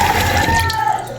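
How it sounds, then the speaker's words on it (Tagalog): Water pours steadily over dried busaing to soak it in a kitchen, a continuous close splashing and trickling with no pause. "Tapos po ngayon po ibababad ko po sa tubig."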